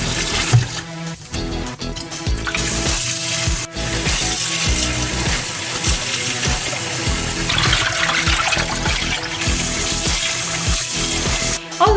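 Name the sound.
washing rice in warm water for plov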